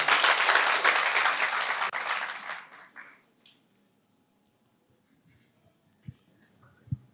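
A church congregation claps together loudly and densely for about three seconds, then the clapping fades into near silence, with a couple of faint knocks afterward.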